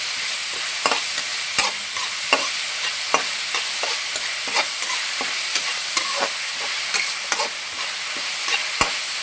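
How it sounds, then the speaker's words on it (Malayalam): Stirring food frying in a pan for Kerala-style kappa biriyani: a continuous sizzle with regular scraping and clanking strokes of the spoon against the pan, close and alone. "നന്നായിട്ട് അങ്ങോട്ട് ഇളക്കി കൊടുക്കുക"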